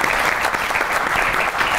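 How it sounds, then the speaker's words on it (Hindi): Brief burst of dense audience applause during a stage interview show, steady and full throughout the short span. "बहुत सी तालियां"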